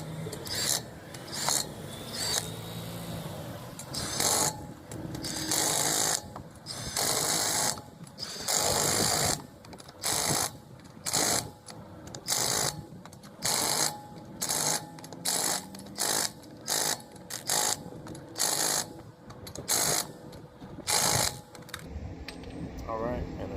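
An impact wrench fastens lug nuts on a Nissan NV wheel during a flat tire change, firing in repeated short loud bursts with a rapid hammering rattle, separated by brief pauses, with some talk in places.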